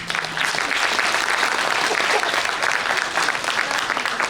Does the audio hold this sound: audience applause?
yes